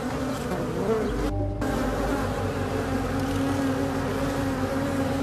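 A steady, dense buzzing of many bees, continuous and fairly loud throughout, with no voices.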